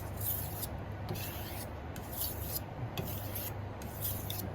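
A knife drawn across a polishing stone during the finishing stage, giving a steady, close abrasive rasp in repeated strokes with brief pauses between them.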